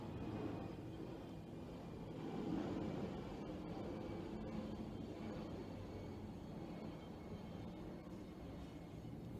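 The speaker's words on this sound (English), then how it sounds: "There's an airplane passing by." An airplane passes overhead as a broad, low, steady rumble that swells slightly and then holds, distant and even throughout.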